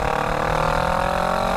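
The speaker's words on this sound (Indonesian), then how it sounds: "Gue tes knalpotnya dulu lah, bunyinya kayak gimana sih." Heavy motorcycle exhaust revving on a quiet road, a loud, steady, close engine drone with strong low harmonics held evenly throughout, with no talk over it.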